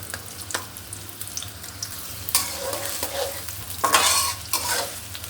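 Chopped onion and many green chillies frying lightly in oil for a taro (kochu) stir-fry, a soft steady sizzle broken by several stirring scrapes of a spatula in the pan, close and fairly quiet.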